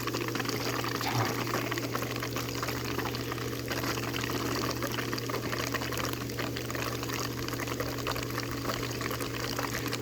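Hot water from the solar-heated line of a pool pump setup, pouring in a steady, fairly quiet rushing stream with a low constant hum beneath and no talk.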